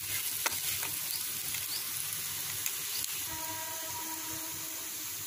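Peanuts, coconut and garlic powder frying in a curry pan on the stove, a steady sizzle and hiss with occasional stirring scrapes and clinks, close and alone with no talk.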